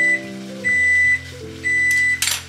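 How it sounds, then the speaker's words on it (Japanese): A kitchen microwave oven hums steadily while three evenly spaced high electronic beeps sound, followed by a brief clatter at the end. "電子レンジ回った"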